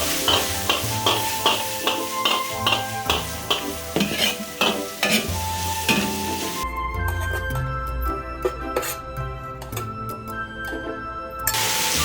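Bamboo shoots and cured pork stir-fried in a wok over high heat, with rhythmic scraping and tossing strokes over a steady sizzle; the frying hiss grows fuller and louder partway through. No voices.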